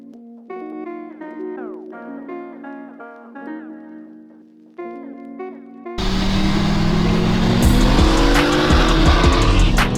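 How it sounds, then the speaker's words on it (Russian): A BMW 340 and a diesel car race in a drag run; tonal engine whines sweep upward through gear changes, then loud close-up wind and engine roar take over for the last seconds. "Сейчас получше старт, но, ребята, это дизель в Андрея просто лютый"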